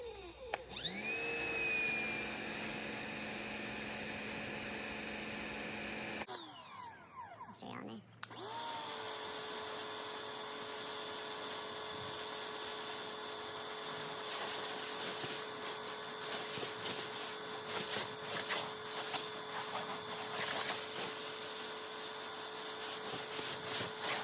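Harbor Freight Portland electric 1750 psi pressure washer spraying to pre-wet and loosen grime, a loud steady whine with a high motor tone that cuts out briefly and restarts, then runs continuously.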